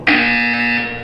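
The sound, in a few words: buzzer in Portal 2 video game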